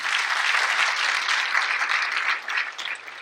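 Sustained audience applause at a school district State of the District event, a dense steady wash of clapping that thins and fades toward the end, no voices over it.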